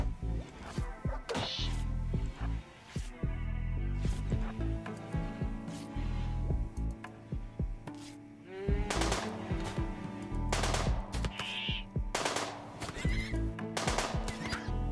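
In RimWorld, colonists fire on their own animals: sharp gunshots and thwacks break out in irregular bursts among loud whinnies and neighs of a horse, with hoof clatter and no speech.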